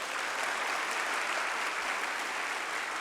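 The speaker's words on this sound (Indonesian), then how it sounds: "Kalau setuju coba tepuk tangannya lebih keras." A crowd at a political address for an Indonesian presidential candidate applauds steadily, a dense wash of clapping heard from a distance, even and unbroken for a few seconds.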